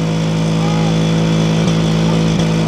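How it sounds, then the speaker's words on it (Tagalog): A Kawasaki 125cc two-stroke motorcycle engine runs at a steady, loud idle close by, holding a constant buzzing drone with two brief dips in pitch near the end. No voices. "Pinakaramdaman niya muna yung tunog ng"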